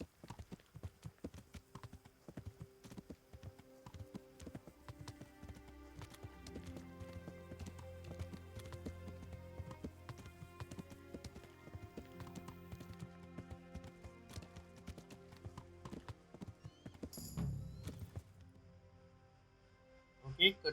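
Horse hooves clip-clop in the medieval game Kingdom Come Deliverance, a steady rhythmic patter under music and someone talking, ending with a louder flurry.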